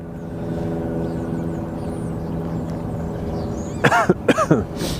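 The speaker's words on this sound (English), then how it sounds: "my nose is running, I'm coughing." Several sharp coughs near the end, about four bursts in quick succession, over a steady low engine-like hum at an airport during plane spotting.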